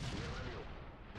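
A tank cannon fires in World of Tanks, a single heavy boom with a long rumbling tail that fills the short moment at moderate loudness, with no talk over it.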